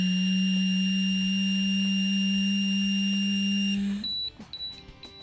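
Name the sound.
breath alcohol interlock device beeping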